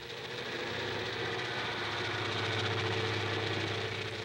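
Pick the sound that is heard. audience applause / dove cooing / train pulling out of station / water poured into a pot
train pulling out of station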